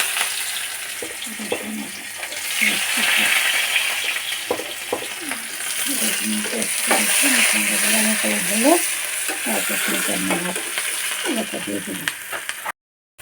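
Ingredients for cabbage bhaji fry in hot oil, a continuous sizzling hiss on the stove, while a voice talks steadily over it throughout.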